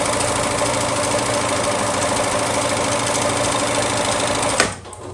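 A sewing machine stitches a quilt heart block with a steady, fast mechanical hum and rapid needle chatter, running loud and close before stopping abruptly near the end.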